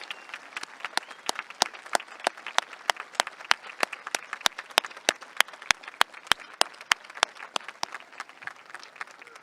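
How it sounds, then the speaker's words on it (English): Applause at a high school graduation ceremony honoring military service members: a small group clapping in sharp, distinct, fairly regular strokes, moderately close, with no voices over it. "Let's give them a huge round of applause."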